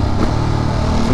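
Motorcycle engine revving on the street, a brief loud, close burst of rough engine drone lasting about a second.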